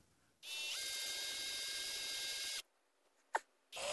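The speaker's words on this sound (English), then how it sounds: "I have to drill this very slowly because too much friction could cause this candy corn to explode." A power drill bores slowly into candy corn, a close, steady high whine for about two seconds, then a brief sharp burst and the motor spinning up again.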